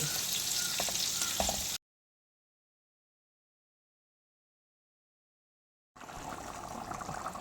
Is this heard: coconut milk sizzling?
yes